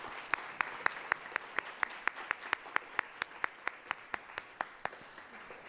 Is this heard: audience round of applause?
yes